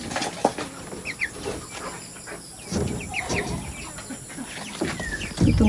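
Free-ranging native chickens scattered around a farm, with faint clucks and scattered calls over a busy outdoor background, plus occasional louder rustles and knocks nearby.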